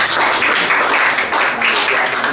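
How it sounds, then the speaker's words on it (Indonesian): Audience at a Hindu discussion event applauding a speaker, dense continuous clapping, loud and close for the whole stretch. "Tepuk tangan buat Bapak."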